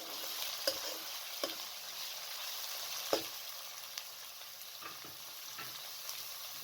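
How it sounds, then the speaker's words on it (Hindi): Chicken frying over medium flame with crushed garlic and ginger, a low steady sizzle broken by a few sharp spoon scrapes and taps as it is stirred, no voices. "चिकन को आपने इतना फ्राई करना है कि इसका जो कलर है वो चेंज हो जाए, वाइट हो जाए।"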